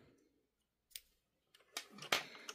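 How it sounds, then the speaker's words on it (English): Scissors snip through yarn in a few short, crisp cuts, with one isolated click followed by a denser cluster of close, quick snips. "Cut the yarn."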